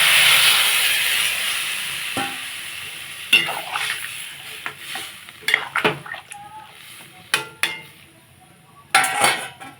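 Water poured into a pan of spiced, well-fried vegetables (potato, pointed gourd, drumsticks) for a rohu fish curry: loud steamy sizzle and hiss at first, then intermittent stirring scrapes and clinks of utensil against the pan.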